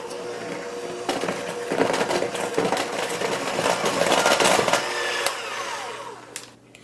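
A mixer beats cream cheese with 1.5 cups of packed powdered sugar for a pumpkin dip, a steady whirring motor drone that grows louder midway and then cuts off near the end.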